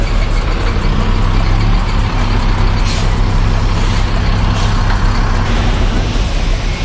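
A large Indonesian transport bus nicknamed Netral arrives at a busy parking area, its loud, heavy diesel engine rumbling close and continuously amid surrounding traffic noise.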